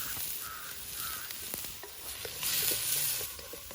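Shallots frying in a pan for a Kerala-style prawn roast, a steady sizzle with occasional stirring scrapes throughout, fairly close, with a few faint bird caws in the background and no talking.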